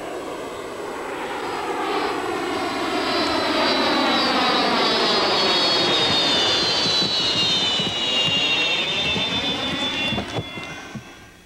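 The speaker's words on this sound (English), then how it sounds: "At high speed, the Salto sounds like a jet." A Salto aerobatic sailplane passes at high speed with a loud jet-like rushing roar that swells over several seconds, sweeps down in pitch as it goes by, then fades away, with no voices.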